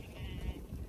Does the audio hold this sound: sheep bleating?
yes